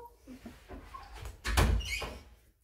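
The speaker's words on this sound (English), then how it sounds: "Can you shut the door, please?" A door is shut indoors with a soft creak and a close, muffled thud, followed by fainter knocking.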